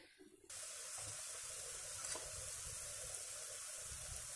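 Zirak, a Nashik-style amti, simmers in a pot with a steady, close hiss and soft bubbling that starts abruptly and continues evenly, with no talking.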